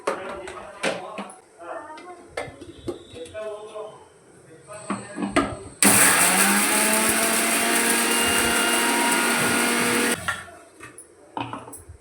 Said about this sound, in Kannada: ಒಂದು ಸಣ್ಣ ಮಿಕ್ಸಿ ಜಾರ್ ತಗೊಂಡು ಜೀರಿಗೆ ಮತ್ತು ಮೆಂತ್ಯ ಒಟ್ಟಿಗೆ ಹಾಕಿ ಪುಡಿ ಮಾಡ್ಕೊಳ್ಳೋಣ